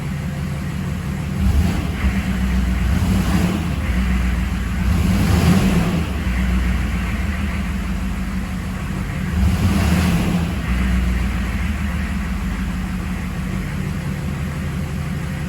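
A 6.5 diesel engine idles steadily with a low, even rumble that holds through the whole stretch, close and loud, with no voices over it.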